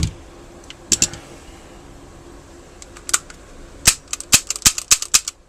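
An Aftermath M9 CO2 blowback pistol with a mostly polymer body, dry-fired and cycled on a workbench, making sharp isolated mechanical clicks, then a quick run of snapping clacks near the end, close and in quiet surroundings.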